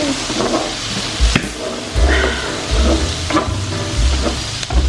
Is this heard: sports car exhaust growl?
no